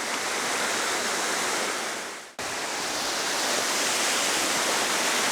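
The Water-breaks-its-neck waterfall roars in a dense, steady broadband rush, loud and close, with a brief dip in level midway.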